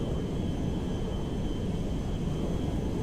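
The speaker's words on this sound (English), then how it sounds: "Gonna use all that runway up, and we are airborne." A steady, broad jet roar fills the air as an Air Force One airliner climbs away from the runway in GTA 5, a constant, moderately quiet rumble with no voices.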